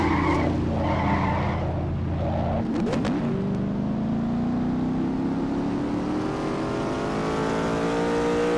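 A NASCAR-style race car in a racing video game spins out and skids, a loud continuous engine drone with a sharp tire-squeal burst that keeps sliding as the revs shift and climb.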